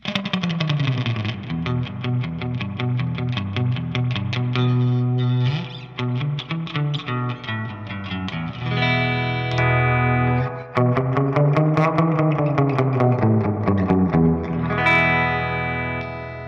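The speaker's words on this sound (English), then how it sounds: "Let's dime the reverb, and you can get some real swampy, kind of surfy stuff." A Peavey Triumph 60 electric guitar amp with reverb turned all the way up, chords and notes ringing out and washing together in heavy echo, loud and continuous, no voices.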